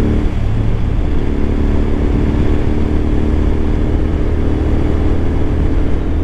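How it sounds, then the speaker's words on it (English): A motorcycle engine drones steadily while riding, a loud, even low hum with a constant pitch and no clear revving, alone without voices. "Bike sounds so good."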